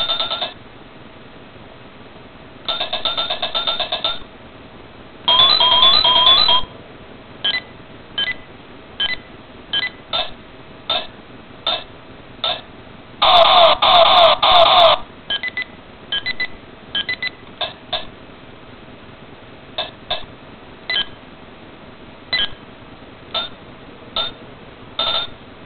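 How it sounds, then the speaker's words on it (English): A Faiz Axel toy watch plays random electronic noises: bursts of bright beeping tones and short bleeps in an irregular rhythm, close and clear with no talking. "The random black button just does random noises and lights and stuff."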